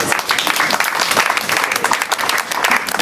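A church congregation applauds and cheers for Jesus, steady dense clapping for about three seconds with a lively crowd texture and no clear talk.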